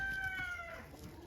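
Hens from several coops gathered together, making bird calls with a clear rising tonal call near the start, fairly close and steady against faint farmyard background.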